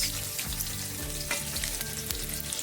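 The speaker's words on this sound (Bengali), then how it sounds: "এবার এটা একটুখানি গন্ধ ছাড়লেই তার মধ্যে আমি দিয়ে দেবো, এই ফুটে গেল, আদা আর রসুন" Ginger and garlic fry in hot white oil for a paneer curry, giving a loud, steady crackling sizzle with rapid pops and a faint rhythmic stirring scrape, close up and without speech.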